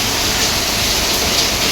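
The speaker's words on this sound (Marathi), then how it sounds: "किती वारा आहे समजू शकता" Steady, dense roar of strong wind on a hilltop in Mumbai, a constant broadband rush with no gaps or voices.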